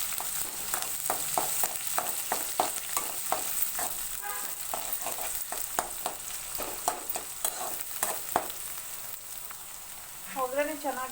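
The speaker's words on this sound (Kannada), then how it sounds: "ಚೆನ್ನಾಗಿ ಎಣ್ಣೆಯಲ್ಲಿ ಫ್ರೈ ಮಾಡ್ಕೋಬೇಕು" Curry leaves, garlic and onion fry in hot oil with a steady near crackle and hiss, broken by repeated sharp scraping stirs of a spoon in the pan; no talking.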